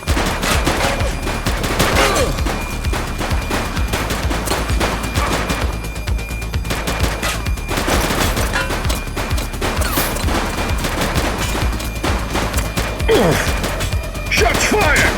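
Gunfire rings out in the police video game The Precinct, with rapid, dense volleys of shots and sharp impacts running almost continuously at high volume, along with scattered shouting.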